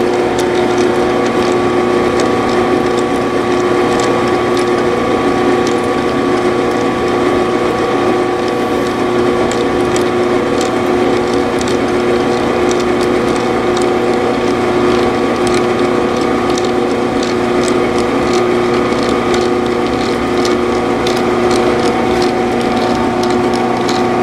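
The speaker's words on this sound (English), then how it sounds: "we just slowed the spindle down, and we're going to try to put a little bit of knurl on here" A metal lathe at slow spindle speed knurls a punch made from a twist drill, producing a continuous loud ratcheting, grinding clatter with a steady mechanical drone throughout.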